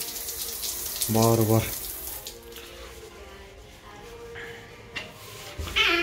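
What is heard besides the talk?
shower water running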